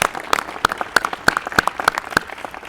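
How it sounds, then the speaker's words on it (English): Scattered clapping from an audience at a San Diego city event honoring city employees, individual claps fairly close and loud, steady for a few seconds with no talk. "So have a round of applause for all of our city employees."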